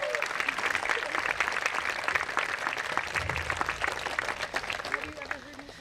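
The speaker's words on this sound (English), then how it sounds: "So another round of applause for those guys." Sustained audience applause fills a graduation ceremony at Pathfinder Tech in 2019, a dense, steady clapping from a large crowd that holds at an even level throughout before easing slightly at the end.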